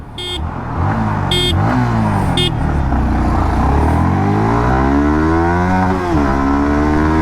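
Loud Yamaha XSR 155 or TVS Apache RTR 160 4V motorcycle engine revving up through rising gears in an acceleration test, pitch climbing and dropping at shifts, with a few horn beeps near the start.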